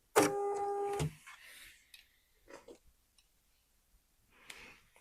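A sewing machine running a short lock stitch on knit fabric, a loud mechanical whirring burst of about one second, followed by faint clicks and handling noises in quiet.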